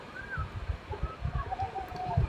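Chickens clucking close by near a beach in Bengkulu, with soft repeated low clucks and a few higher calls spread through the moment under faint outdoor ambience, no talking.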